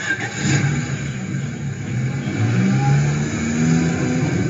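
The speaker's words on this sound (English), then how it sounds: "You drive across town to Gotham's ornate opera hall." Car driving across town as a game sound effect, a continuous mid-pitched engine drone that rises and shifts in pitch as it accelerates, steady and fairly loud without speech.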